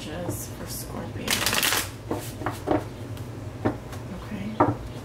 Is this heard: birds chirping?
no